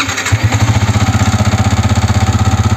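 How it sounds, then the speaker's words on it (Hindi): A Yamaha MT15 motorcycle engine idles with an abnormal noise, a loud, close, steady pulsing throb with a rapid rhythmic clatter running through it and no talking. "आज हमारे पास यामा की MT15 बाइक आई हुई है और इसके इंजन में से नॉइस आ रहा है।"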